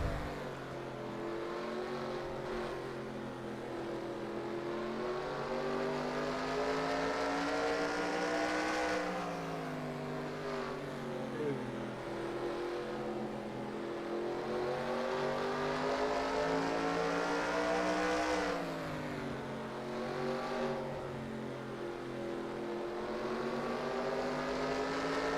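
A NASCAR race car's engine at Bristol in the game NASCAR NR2003 drones loudly from onboard, its sustained pitch rising and falling in regular cycles as the car circles the short track, with no talk.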